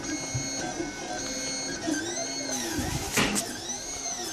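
A 3D printer lays down glossy black 1.75 mm PLA filament for a saxophone mouthpiece, its stepper motors whining in shifting, warbling tones over a steady mechanical hum, close and continuous.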